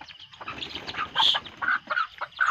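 Chickens cluck close by in a yard among fruit-laden trees, a handful of short, sharp calls in an irregular rhythm over quiet background, with no talking.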